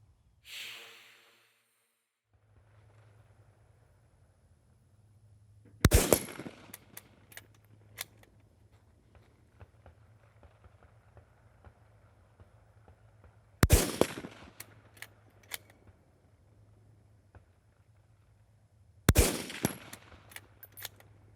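Rifle shots fired at targets on a military shooting range: three sharp, loud cracks spaced several seconds apart, each followed by a brief echoing tail over a low steady hum.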